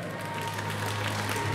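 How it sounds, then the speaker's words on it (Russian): An audience applauds at a Gym For Life gymnastics festival, with steady, dense clapping from a crowd at moderate distance throughout. "Да-да-да, это аплодисменты вашей чести"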